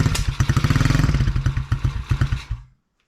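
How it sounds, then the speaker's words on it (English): A Tao Tao DB10 dirt bike engine fires up with a rapid, loud pulsing chug up close, running rough and uneven for a couple of seconds before cutting out abruptly into silence. "see if she'll start. I have my hand on the throttle."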